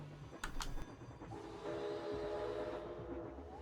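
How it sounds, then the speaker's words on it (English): Coaster trains running in Planet Coaster, an Old Mill-style ride in a theme park game, with a brief sharp whistle-like tone early, then a continuous rolling rumble and rattle of cars at moderate level. "I figured putting these trains down was going to be awkward."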